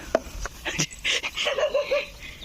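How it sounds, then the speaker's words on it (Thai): A dog on a farm yips and barks a few times in quick bursts, fairly close, with some whimpering tones mixed in. "สังเกตจากเสียงเห่าของหมานั้น"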